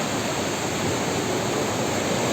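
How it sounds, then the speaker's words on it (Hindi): Bamni Falls waterfall in Purulia, West Bengal, pours as a steady, dense broadband roar, continuous and even throughout with no voices. "यहाँ से झरना जा रहा है, ये पानी जाता है और विकराल झरने का रूप लेता है।"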